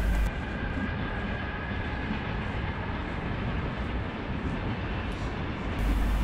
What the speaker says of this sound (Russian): Здесь уже хорошо слышно железную дорогу.